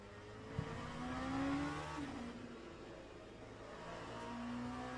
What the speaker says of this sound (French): profiter de ce superbe son de ce proto LMP2